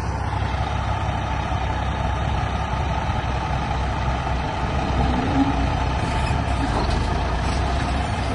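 A heavy truck engine rumbles loudly and continuously as the truck drives onto a trailer, with a brief hiss near the end and no talking.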